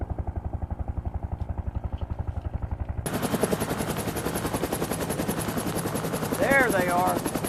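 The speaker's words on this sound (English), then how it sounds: "Chopper's inbound" A military helicopter arrives in a war movie: a low, even rotor thump beats alone at first, then a louder, denser roar of engine and blades takes over, with faint voices and a brief whistle-like tone under it.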